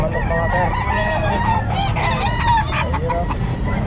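A gamecock, a sweater dom breed, crows amid the busy clamor of a pet market in Calumpit, with other fowl clucking and chattering throughout under steady crowd noise.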